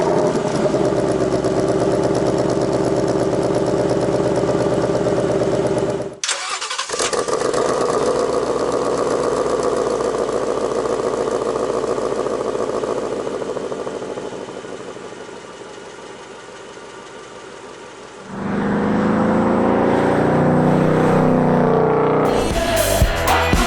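Engine of a 2019 Ford Mustang Bullitt V8, starting quietly and then firing with a normal start, a steady rumbling idle that drops away before a louder, rougher burst near the end.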